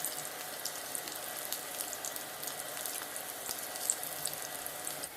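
Dried red chillies, mustard seeds and garlic cloves fry in mustard oil while being stirred, giving a steady, close crackling sizzle with small pops throughout and no talking.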